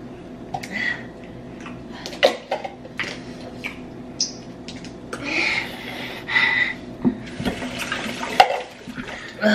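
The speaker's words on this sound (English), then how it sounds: "Rinse your hand." A hand being rinsed under a running tap in a home, with intermittent splashing and water flow, some clinks and knocks, and brief sharp bursts near the end, moderately close with no talking.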